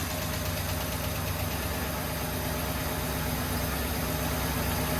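A 1972 International Harvester 1210 pickup engine idles steadily and loudly up close, a constant rough mechanical drone with faint knocking texture and no voices over it.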